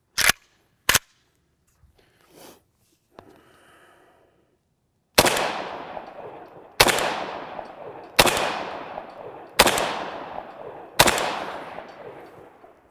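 Rounds from an AK rifle fitted with a KNS muzzle brake, heard as a few sharp early reports and then five loud, evenly spaced shots about every 1.5 seconds, each ringing out with a long echoing decay.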